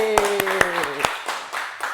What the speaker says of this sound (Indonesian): Beri tepuk tangan buat Fandi.